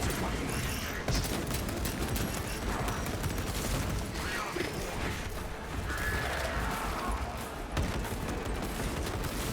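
Rapid automatic gunfire fills a Space Marine 2 video game battle as players shoot at exposed plasma rods, a dense, continuous crackle of shots with clattering impacts and mechanical noises, with faint game voices mixed in.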